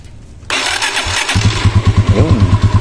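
A motorcycle fitted with a freshly charged battery cranks and fires up, a sudden burst of starter noise followed by the engine settling into a loud, pulsing close-up idle.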